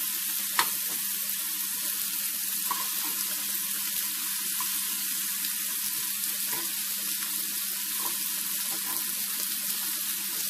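Chicken fries in a pan with a steady, even sizzle and occasional small crackles and pops, moderately loud and continuous throughout with no talking.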